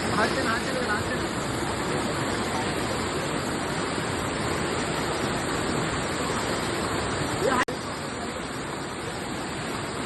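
A constant rushing of a babbling stream in the Sahyadri hills of Maharashtra fills the scene at an even level, with a faint voice briefly audible in the background.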